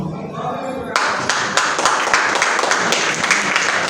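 Theatre audience applauding after a cast introduction at a stage play: murmur and a voice before a sudden burst of loud, dense clapping that continues steadily to the end.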